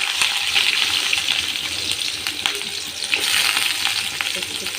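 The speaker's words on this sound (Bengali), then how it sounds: "কড়াই গরম হয়ে গেছে, তেল দিয়ে দেব।" Oil and onions sizzling in a hot kadai, a loud, steady crackling hiss close by with light scraping of stirring throughout.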